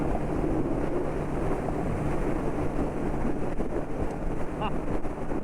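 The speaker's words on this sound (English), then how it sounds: "The wind almost just moved me into the other lane." Strong wind roars steadily against a motorcycle rider on a Texas highway, a loud, continuous buffeting rush with a low engine drone beneath it and brief gusty swells throughout.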